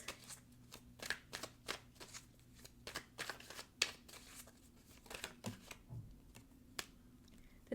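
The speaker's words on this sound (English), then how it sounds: "I am going to pull another card for this." Tarot cards are shuffled and drawn by hand in a quiet room, a steady series of soft, crisp riffling snaps and flicks with brief pauses and no talking.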